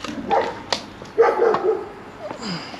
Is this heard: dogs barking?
yes